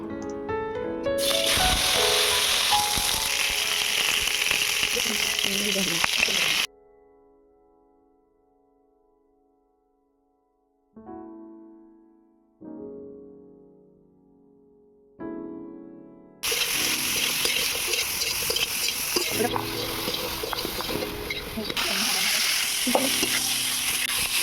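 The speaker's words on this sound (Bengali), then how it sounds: "সবজিগুলো এবারে আমি ভেজে নেব" Vegetables with chopped capsicum frying in a pan for khichuri, a loud, steady sizzle with stirring, cutting out to a quiet stretch with a few brief tones, then returning just as loud.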